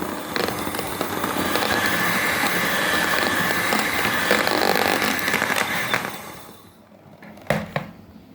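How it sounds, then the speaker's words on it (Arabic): An electric mixer beats a homemade vanilla ice cream mix in a steady, loud, dense whir for about six seconds, then cuts off, leaving a few brief knocks near the end. "نديها كده ضربة عشان يدوب الفانيليا"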